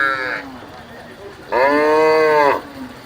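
A calf moos twice nearby at a cattle market in Sangola, a short call followed after a pause by a longer, louder bellow, with faint market noise underneath.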